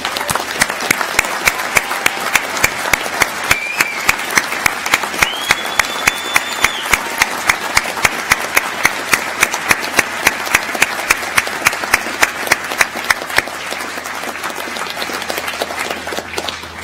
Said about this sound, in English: let's give our PhD students another round of applause